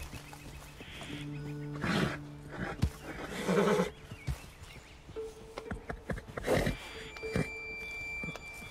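A horse in Red Dead Redemption whinnies and snorts several times in short bursts, with hoof clops and faint background sounds between calls.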